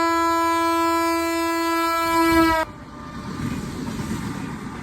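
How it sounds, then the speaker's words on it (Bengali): A train arriving at a railway station sounds a long, loud, steady horn blast that cuts off sharply, followed by the lower rumble and rattle of the moving train. "শুনি ট্রেন আসতেছে।"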